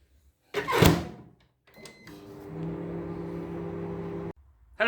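A steady low electric hum of a microwave oven on combined microwave and grill cooking potatoes runs for a couple of seconds after a loud thump and some clatter, then cuts off abruptly.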